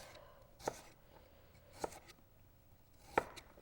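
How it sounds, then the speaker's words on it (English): Three separate knife chops cutting carrots on an angle strike a cutting board at slow, even intervals, each a crisp thud close by in an otherwise quiet space. "just turn your carrot and cut them on an angle"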